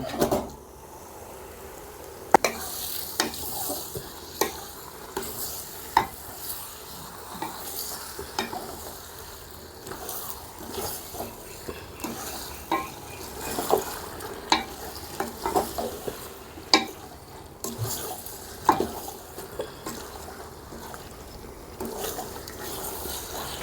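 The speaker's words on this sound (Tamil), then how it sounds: "இப்போ நல்லா எண்ணெய் பிரிஞ்சு வந்துருச்சு நம்ம ஊற்றின தயிர்லேருந்து. இந்த டைமில் சிக்கனை சேர்த்துக்கலாம்." Pieces of chicken go into hot oil that has separated from curd for a seeraga samba chicken biryani. A close, steady sizzle runs throughout, broken by repeated scraping stirs and clinks of a spoon against the pot, with no talking.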